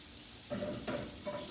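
Cream style corn frying in a non-stick skillet, a soft steady sizzle with a few brief louder bursts of crackle, close by and with no talking.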